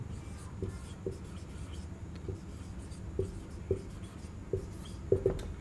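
Marker or chalk strokes on a classroom board during a Hindi reasoning lecture on syllogisms: quiet, irregular scratches and light taps spaced about half a second apart, clustering toward the end, over a soft room background.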